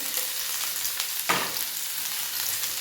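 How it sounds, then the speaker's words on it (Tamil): Finely chopped ginger fries in hot oil in a pan with a steady crackling sizzle, close up, with one brief scraping stir partway through and no voices. "இப்போ அதே எண்ணெயிலேயே ஒரு 2 ஸ்பூன் அளவுக்கு பொடியாக நறுக்கின இஞ்சி போட்டுக்கிறேன்."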